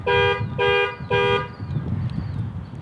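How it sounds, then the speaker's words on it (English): A 2018 Chrysler Pacifica S panic alarm sounds three loud, evenly spaced horn honks close by, each about a third of a second long with short gaps, followed by quieter background noise. "it flashes the lights and beeps the horn"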